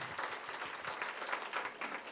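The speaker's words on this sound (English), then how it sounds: "Let's go ahead and give Rod and Jay both a round of applause." Audience at a live AI in education and workforce development conversation claps for the speakers, a brief, fairly quiet patter of dense applause throughout.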